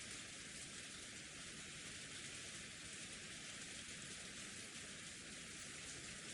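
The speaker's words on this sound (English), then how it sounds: "Gentle rain poured down over the Golden Land's rose garden." Rain sound effect from the Umineko visual novel, falling over a rose garden: a steady, even hiss of rainfall with no breaks, quiet and unchanging throughout.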